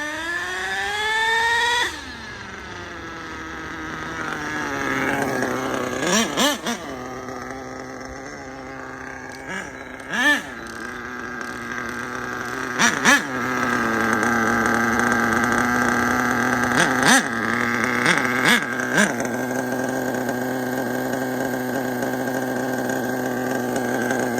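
A small HPI Savage 25 nitro RC monster truck engine runs loud and close, buzzing at a high pitch with rises and dips as it revs and shifts gears, with a brief lower idle near the start.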